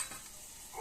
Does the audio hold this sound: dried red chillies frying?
yes